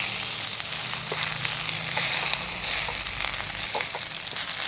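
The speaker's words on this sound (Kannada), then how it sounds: "ಗೋಂಗೂರ ಚೆನ್ನಾಗಿ ಫ್ರೈ ಆಗಬೇಕು" Gongura leaves fry in a pan for Andhra-style chutney, giving a steady broadband sizzle with occasional crackles and faint stirring, close and continuous throughout.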